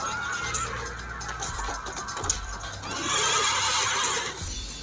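A horse neighs during a boss fight in Devil May Cry 3: Dante's Awakening, with a loud whinny rising near the three-second mark against game effects and hoof clatter.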